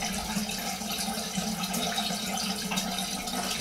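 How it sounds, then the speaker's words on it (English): Cold water running from a bathroom tap during a shave, a steady close hiss and splash that continues unbroken with no talking. "It's just cold water"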